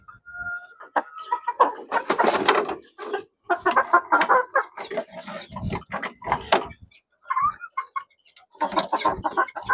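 Gamefowl chickens cluck and squawk in irregular bursts close by, with short gaps between calls.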